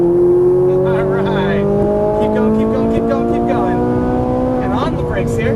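Ferrari 458 on a race track accelerating hard out of a corner, its high-pitched engine note climbing steadily and loud throughout, with gear-change steps and a faint tyre squeal, under a coach talking over it.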